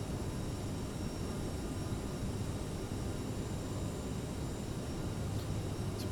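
A CRJ-700 airliner picking up speed in Microsoft Flight Simulator: a steady, even jet engine roar with a whooshing airflow hiss, constant and moderately quiet.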